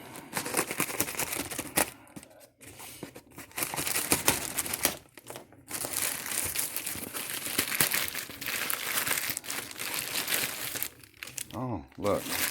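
Crinkling and crumpling of cardboard and plastic packaging as a damaged box holding a GPA Motors big bore kit is handled and opened up close, with a person talking over parts of it.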